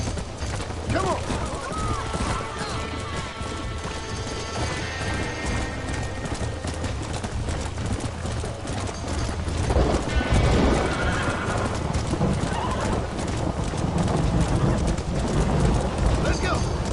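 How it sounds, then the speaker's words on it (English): A stallion gallops and neighs in the video game Red Dead Redemption: loud, steady clip-clopping hooves run throughout, with shrill whinnies on top, all dense and close. "Hey, the stallion's getting away. Chase him down and bring him back."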